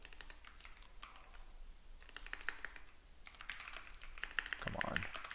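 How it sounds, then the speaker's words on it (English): Keys clatter in quick, uneven bursts as someone types on a computer keyboard, with brief pauses between runs. The typing is quiet and close, and a voice talks faintly underneath. "sorry my typing's not great this morning"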